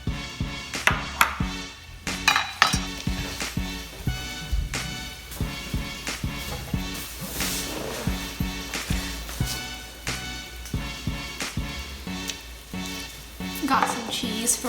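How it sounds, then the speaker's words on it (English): Unmarinated chicken chunks frying in a pan, a steady close crackling sizzle punctuated by sharp clinks and scrapes of a utensil against the pan. "So we're gonna fry these chicken chunks"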